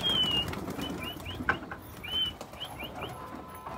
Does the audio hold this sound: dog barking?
no